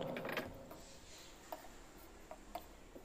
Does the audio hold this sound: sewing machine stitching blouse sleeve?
yes